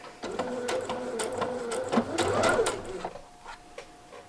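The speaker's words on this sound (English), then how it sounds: "I am just going to sew with a basting stitch straight down" A sewing machine runs a long basting stitch straight down knit fabric, attaching a V-neck neckband to a bodice, its motor whirring steadily and close for about three seconds before stopping.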